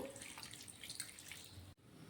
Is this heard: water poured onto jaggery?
yes